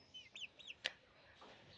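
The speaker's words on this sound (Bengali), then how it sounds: "এখানে আমাদের দুটি আসিল ফাইটার রয়েছে, তো একটা মুরগ একটা মুরগি" Aseel fighter chickens, a rooster and a hen, give a few short faint clucks and chirps, followed by a sharp brief click, in a quiet setting.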